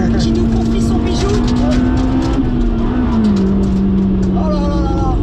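A Honda Civic Type R EK9 is driven hard, its engine holding a loud, steady high drone that eases slightly in pitch, heard from inside the car while occupants talk over it.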